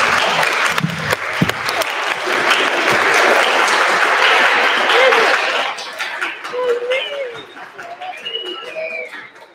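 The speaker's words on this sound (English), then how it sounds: "Can we give 305 one more round of applause, please?" An audience applauds at an elementary school Black History Month assembly: a dense, loud wash of clapping lasts several seconds, then fades as a voice begins talking over the room.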